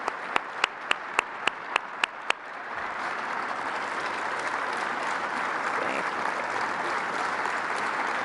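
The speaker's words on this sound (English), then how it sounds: "I'd like you to stand, please, so we can applaud you." An audience applauds Space Force Guardians at a National Space Council meeting, starting with several sharp separate claps that swell into steady, sustained applause filling the room.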